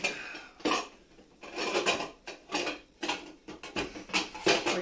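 Pots, pans and lids clatter and clank in a home kitchen while cooking, a run of loud irregular metallic bangs and scrapes close by, with no talking.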